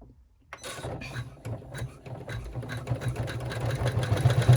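Embroidery machine running a top stitch on a sling backpack in the hoop, a steady rapid mechanical chatter that starts after a brief quiet moment and grows louder toward the end.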